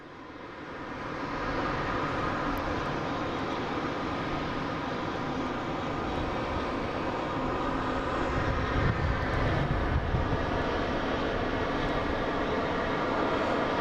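An airliner arriving from Istanbul at Boston Logan International Airport roars in a broad, continuous jet rumble that builds slightly and holds steady for many seconds, loud and sustained with no talk over it.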